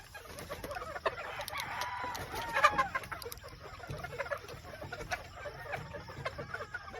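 Thunderbird gamefowl chickens kept as pets cluck and call at close range in a steady farmyard chorus, with one louder crow-like burst partway through over constant background noise.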